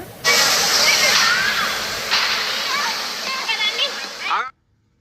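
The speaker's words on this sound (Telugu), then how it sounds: "వాటర్ సౌండ్ అది నేను అట్లే ఉంచేసిన బాగుందని" Loud, rushing water pours continuously nearby, with faint voices chattering underneath.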